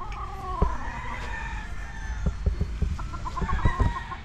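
Several roosters crow in long calls over a chorus of hens clucking and scratching nearby, a busy din at a game fowl farm in Medellin, Cebu, with no talking.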